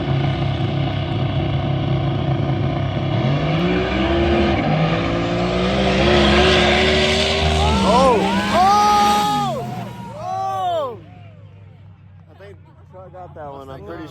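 A diesel truck races another car at a car field drag event, with loud engines droning and revving, then rising and falling gear-shift whines as they pull away. People talk over the engine noise throughout.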